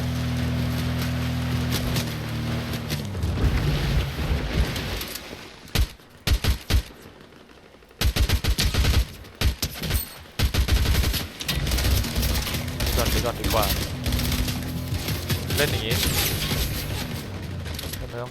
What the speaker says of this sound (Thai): นี่มันมีคนยิงกันอยู่ตรงนู้นด้วย